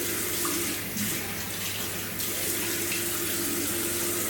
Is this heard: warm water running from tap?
yes